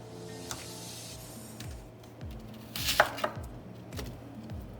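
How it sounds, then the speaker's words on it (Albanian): Onion being chopped into cubes on a board for Albanian byrek: a run of quick, close knife taps in a loose rhythm, a brief louder clatter midway, fairly soft overall with no talk. "Qepën do ta ngrim në kubik."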